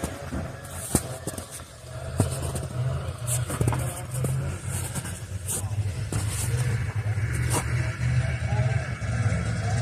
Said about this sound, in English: And we've got sleds coming here.